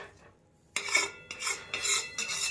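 A piece of jaggery drops into a hot pan on a gas stove with a sudden crisp onset, followed by close, crackling sizzle and scraping that pulses in uneven waves.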